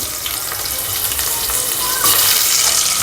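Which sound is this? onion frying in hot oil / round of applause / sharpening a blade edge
onion frying in hot oil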